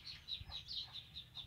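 Chickens in a henhouse give a quick series of faint, high, chirping clucks that repeat steadily over a soft low rumble, with no voices.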